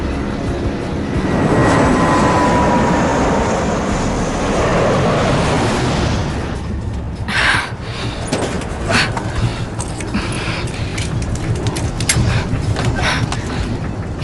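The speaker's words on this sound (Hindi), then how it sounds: "हमारे जेट प्लेन के चारों तरफ हैं।" Jet planes circling nearby in an action film, a loud rushing engine roar that swells early and then gives way to rougher bursts and rumbling.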